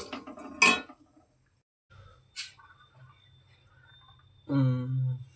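Roasted peanuts scooped out of a pan, a few sparse metallic scrapes and clinks separated by pauses, with a low hum at the end.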